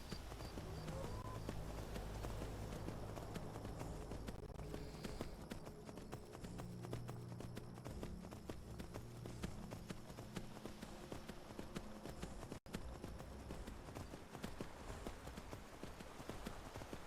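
Horse hooves clip-clop at a steady galloping rhythm as a rider travels on horseback in the video game Skyrim, dense and continuous under in-game ambience for the whole stretch.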